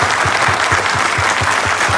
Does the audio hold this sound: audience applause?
yes